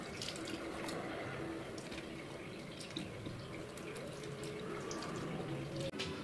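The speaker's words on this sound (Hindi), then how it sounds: "अब हम इसको पानी से अच्छी तरह से वॉश कर लेंगे।" Tie-dyed fabric sample being rinsed and washed in water, with steady running and splashing water at close range throughout, as if under a tap in a sink.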